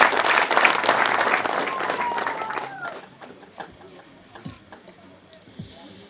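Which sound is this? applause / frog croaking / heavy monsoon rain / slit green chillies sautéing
applause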